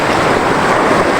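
Big ocean waves roll onto the shore in a loud, constant roar of surf, with gusty wind buffeting the microphone throughout.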